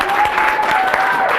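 Brief burst of audience applause at a comedy show, a dense wash of clapping with some voices mixed in, steady and fairly loud for its short length.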